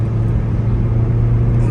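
A newly bought car drives along the road, its engine and road noise forming a steady low rumble heard from inside the cabin.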